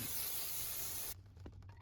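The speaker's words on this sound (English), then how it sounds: "Now spray brake cleaner on the backing plate." An aerosol can of brake cleaner hisses in one steady burst for about a second onto a drum brake backing plate, then cuts off abruptly, leaving faint handling noises.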